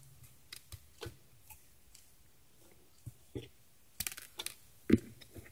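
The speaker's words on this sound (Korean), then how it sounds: "지금 살짝살짝씩 가위로 움직이면서 자르고 있어요." Quiet, close-up snips of small scissors cutting miniature grass for a miniature ricotta cheese salad, irregular and spaced out, each a brief crisp click against a soft background hiss.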